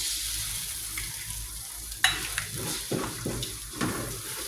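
Egg fries in hot oil in a pan, with a steady sizzle under scraping and clinking as it is stirred in irregular strokes, close but moderately quiet.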